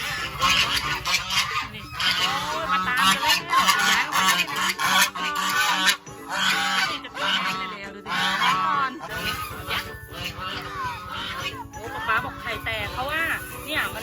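Geese at a laying site honk loudly and nearly continuously, several birds close by with overlapping nasal calls, while people talk underneath.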